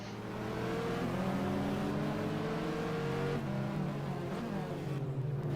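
Race car engine in an FIA GT racing video game at Budapest, a loud sustained drone that rises and holds through gear changes, with no talk over it.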